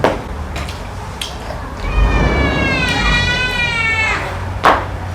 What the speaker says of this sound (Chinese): 哇，猫在那里了